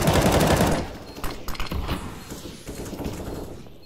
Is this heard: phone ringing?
no